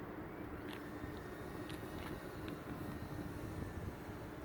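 A Sig Four-Star RC model plane, refitted with a larger propeller, drones steadily overhead at slow speed, its engine a continuous even buzz filling the whole stretch with no talk.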